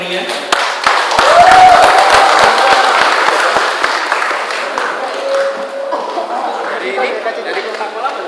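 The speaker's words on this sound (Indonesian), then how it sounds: "Mohon perkenan kepada teman-teman untuk memberikan aplaus yang meriah." An audience at an outdoor event in Indonesia claps in a steady burst that swells early, then tapers, with crowd chatter and a voice over it.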